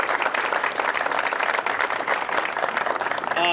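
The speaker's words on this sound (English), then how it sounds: "give Barnhart Reese a round of applause." An audience at the opening of a new bayside fire station claps in a steady, dense burst of applause lasting several seconds, moderately loud and continuous.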